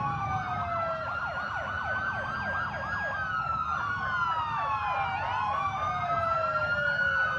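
A state trooper car's siren wails and yelps continuously at a firemen's parade in Mamaroneck, loud and close, sweeping up and down over a low rumble of traffic.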